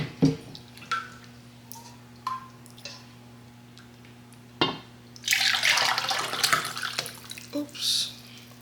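Liquid stock poured into a pot for a mixed meat stew, a wet splashing pour of about two seconds after a few faint clinks and taps, fairly close in a quiet kitchen.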